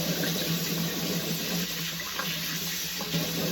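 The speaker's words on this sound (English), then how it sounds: "I turned the water back on, so now I'm going to test it." Hot water runs from a Price Pfister Marielle kitchen faucet with a pull-out spout after a cartridge replacement, a steady close hiss of flowing water into the sink, with no talking.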